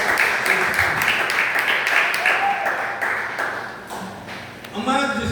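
A church congregation claps together during a Portuguese-language service, a steady wash of applause with a voice speaking over it that tapers near the end.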